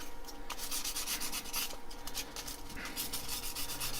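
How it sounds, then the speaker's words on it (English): Sandpaper scuffing back and forth across a wood surface to take the shine off, on a woodturned threaded lidded pot, a continuous rhythmic rasping close by with no talking. "I'm just keying the surface, okay? Taking that little bit of shine off."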